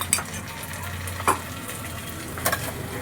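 Ginger-garlic paste is stirred into spices frying in a pan for chole bhature: a steady close sizzle broken by three sharp spoon scrapes, with no talking.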